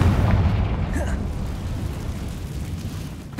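A Confringo fire-blast spell from the Hogwarts Legacy video game bursts with a loud low boom at the start, then rumbles and decays under continuing game sound, with a voice present.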